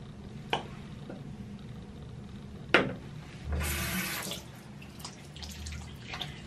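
Water runs from a bathroom tap for about a second to wet a face during a skincare routine, a close rushing splash between a few isolated clicks and drips, fairly quiet and with no talking.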